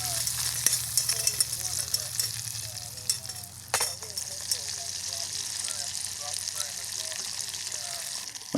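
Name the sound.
apple smoked sausage frying on a camp stove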